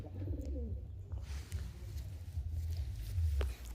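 Racing pigeons in a loft coo softly in low, rolling bursts, close by, with faint shuffling and a few light clicks.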